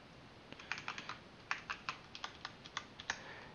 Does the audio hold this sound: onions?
no